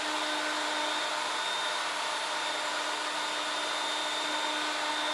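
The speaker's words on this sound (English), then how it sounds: "I'm going to round over the bottom portion of each bottom rail at the router table." A router at a router table runs steadily, rounding over the bottom edge of a wooden desk rail with a continuous high whine throughout, loud and close with no talking.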